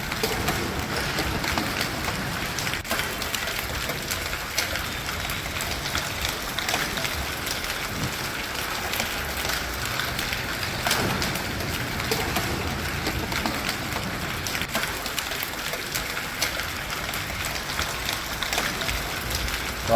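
Heavy rain falls with hail in Jodhpur, Rajasthan, a dense, steady hiss of drops on surfaces lasting throughout, fairly faint and uniform with no clear voices.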